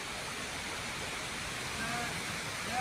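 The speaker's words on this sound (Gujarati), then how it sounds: "ધરતી માતાના મંદિર પાસે ડુંગર પરથી આ ધોધ વહે છે" Sunsar waterfall pours down a hillside beside a temple in rainy Aravalli, a steady broadband rush of falling water that holds an even level throughout.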